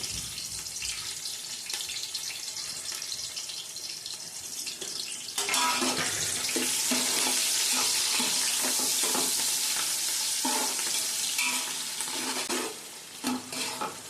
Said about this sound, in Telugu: సన్నగా కట్ చేసుకున్న పచ్చిమిర్చి ఉల్లిపాయలు పచ్చిమిరపకాయలు మంచి తగ్గించే వరకు వేయించుకోండి